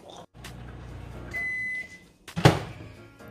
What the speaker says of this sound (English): now we're gonna put this in the microwave for 1 minute